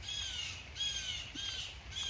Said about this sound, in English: Listening to all the different birds and wondering which one of them would eat at my flesh first.